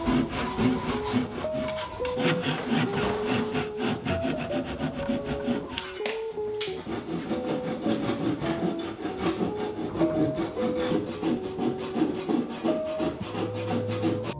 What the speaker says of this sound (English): I'm gonna go ahead and cut the dowels that I just put into the legs.